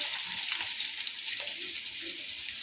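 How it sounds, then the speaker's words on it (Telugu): Onions sizzle steadily in hot ghee and oil for a chicken biryani, a close, continuous crackling fry with no voices over it. "కొంచెం నెయ్యి వేసుకున్నాను కొంచెం నూనె కూడా వేసుకున్నాం ఆనియన్స్ అయితే వేగుతున్నాయి"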